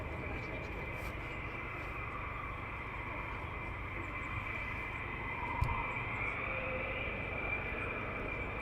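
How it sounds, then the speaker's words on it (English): A military aircraft taxiing at RAF Lakenheath gives off a steady, loud jet whine and roar that holds level throughout, with a brief thump partway through. "So this one's taxiing towards us, hopefully"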